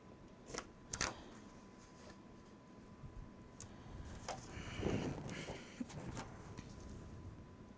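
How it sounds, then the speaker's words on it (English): Scissors cut paper strips for a file folder scrapbook album. A handful of soft, close snips and paper rustles sound over a quiet room background. "I'll just cut the strips down."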